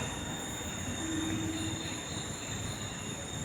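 A train rolls past with a continuous rumbling drone and rail noise, joined for a moment by a faint squealing tone from the wheels, steady and moderately distant without talk.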